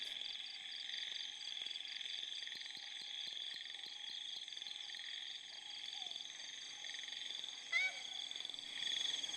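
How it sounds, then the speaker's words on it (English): A dense nighttime chorus of frogs and crickets in Cat Tien National Park, Vietnam, steady pulsing trills and chirps layered together, continuous throughout with a brief louder call near the end. "The mysterious music sound at night, made by the amphibians and crickets living here"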